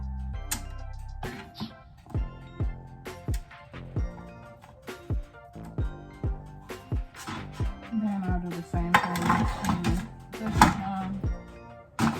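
A spoon knocks repeatedly against cupcake liners while keto cheesecake crust is scooped in, giving a steady series of sharp close taps and thunks with brief scraping between them, and a voice speaking now and then.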